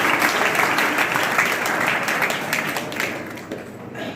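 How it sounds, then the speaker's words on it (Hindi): An audience at a Sanskrit week closing ceremony applauds in a dense, sustained burst of clapping that carries on steadily and then gradually fades toward the end. "आप लोगों के ज्ञान के लिए मैं चाहता हूं आप ताली बजा लें।"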